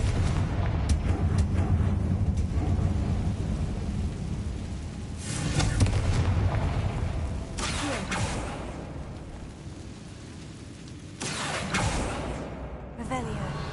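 Confringo fire spell from the Hogwarts Legacy video game sets off booming, rumbling explosions that roll through several loud bursts, starting near the opening, again around six seconds and late in the clip, over a continuous low roar.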